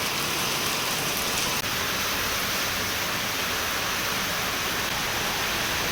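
Heavy rain pours down steadily, a dense unbroken hiss of water with no pauses or voices.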